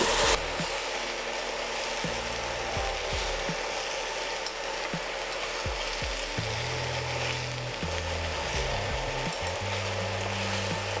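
Pre-boiled potatoes and mushrooms fry steadily in a pan, a continuous close sizzle with occasional clinks and scrapes of stirring.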